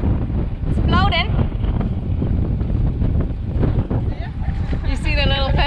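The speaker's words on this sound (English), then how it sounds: "today the wind picks up a little" Wind buffets a boat at sea, a steady rushing roar with microphone wind noise throughout, while people talk over it.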